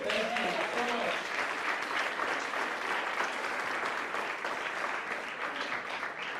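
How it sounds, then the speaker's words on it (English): Audience clapping fills a meeting room in a steady, dense wash of applause, with a brief voice audible near the start beneath it. "Let's go ahead and just clap for them."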